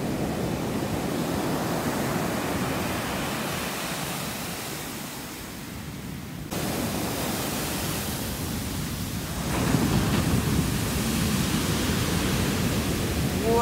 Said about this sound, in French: regardez les vagues